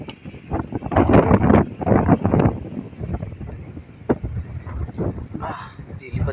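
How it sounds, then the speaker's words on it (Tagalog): Strong typhoon wind buffets an outdoor microphone beside a river, loud gusty roaring in surges, with someone talking over it intermittently. "Lakas ng hangin."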